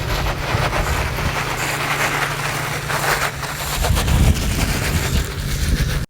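Locked rear differential skipping on gravel while driving forward, a loud continuous rumble of rolling tires and drivetrain with irregular knocking pulses throughout, heard from inside the vehicle with no talking.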